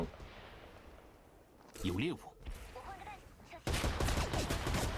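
Gunfire in the battle royale shooter Apex Legends, bursts of shots crackling through a busy game mix, with a dense loud stretch near the end and excited talk over it.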